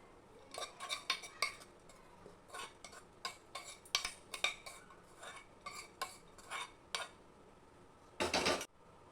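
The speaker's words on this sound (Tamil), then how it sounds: "இதில் நம்ம வதக்கி வச்ச வெங்காயத்தை சேர்த்து நல்லா கலந்து விட்டுக்கலாம்" A spoon scrapes and clinks against a vessel while idli batter is mixed with sautéed onions, a close series of irregular stirring knocks ending in a brief burst of vigorous mixing.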